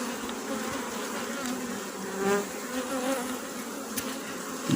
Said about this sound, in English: The bees, they're a bit grumpy.